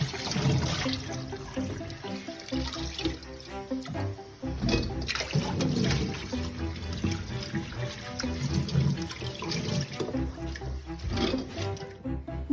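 Water sloshes and runs steadily while gunda (lasoda) fruits are rubbed and swirled in it, a continuous close splashing with soft knocks throughout.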